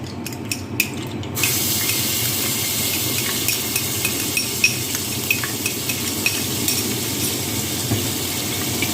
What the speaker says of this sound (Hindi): अब मैं इसमें शामिल करूँगी लहसुन अदरक का पेस्ट।